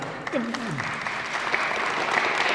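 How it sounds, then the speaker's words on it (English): Brief burst of crowd applause at a high school graduation, many hands clapping together with a voice briefly audible at the start. "Superintendent of Police Bernhardt, Dr. Dan, give a round of applause, right?"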